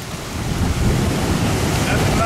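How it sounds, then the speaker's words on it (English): Strong wind buffets the microphone on an ocean beach at a city beach in Takoradi, Ghana, a loud low roar with surf rushing underneath, continuous and close. "we apologize if the wind is strong, but it is windy for real."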